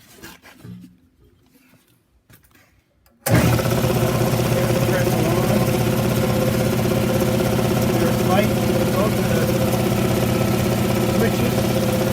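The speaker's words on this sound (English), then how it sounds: "Air compressor turns off, reset." An air compressor feeding a well pump system starts up abruptly after a few seconds of near silence, then runs loud and steady with a constant motor drone, close by.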